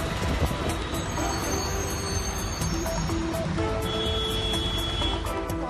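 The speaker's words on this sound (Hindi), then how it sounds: "पहुंच गए हैं अमेठी रेलवे स्टेशन" A train at Amethi railway station, its steady rumble filling the whole stretch with metallic wheel squeal and shrill high tones riding over the noise, loud and continuous with no talk.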